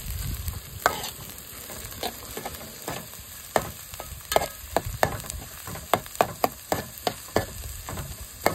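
Onions sautéing in plenty of oil for a dry fish sambal, a steady sizzle broken by repeated sharp scrapes and clacks of a spoon stirring in the pan, with no one talking.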